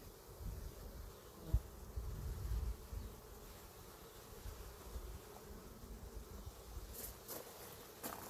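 Honey bees hum around an opened, usually aggressive beehive, a faint, steady buzzing drone with a soft thump early on and no talk.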